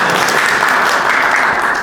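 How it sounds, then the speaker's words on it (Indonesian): An audience claps loudly and steadily for a colleague during a talk on performance appraisal in a classroom or seminar setting, a dense close applause lasting the whole moment. "tepuk tangan buat Ervin"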